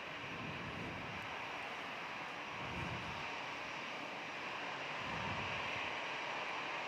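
Airliner at Perth Airport, heard as a steady, fairly distant jet roar that holds evenly with a faint wind-like hiss throughout, no voices.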